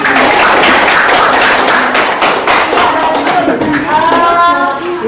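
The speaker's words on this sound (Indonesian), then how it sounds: "Kita tepuk tangan." A classroom of students in Indonesia breaks into a burst of hand clapping, a dense, scattered patter of claps that thins out and fades over a few seconds, with faint voices underneath.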